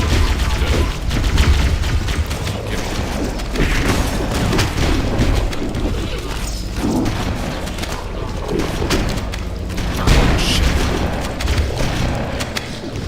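In Halo: Combat Evolved, Flood enemies fire shotguns during a Legendary-difficulty campaign fight, producing repeated heavy booming blasts over a dense, loud bed of in-game combat noise.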